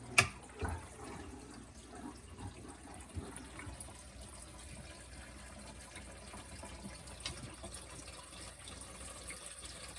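Water keeps draining down into an aquarium sump chamber after the filter pump is switched off, a steady low splashing trickle with a few louder gurgles early on, fairly quiet and with no talking.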